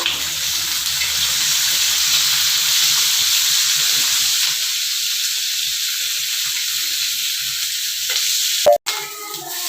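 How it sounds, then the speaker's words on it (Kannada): Green chilies fry in oil for a mango chutney, giving a continuous, close sizzling hiss with faint stirring, ending in a brief clunk. "ಇದಕ್ಕೆ ಮೆಣಸಿನ್ಕಾಯಿನ ಸ್ವಲ್ಪ ಆಯಿಲ್ ಹಾಕಿ ಫ್ರೈ ಮಾಡ್ಕೋಬೇಕು"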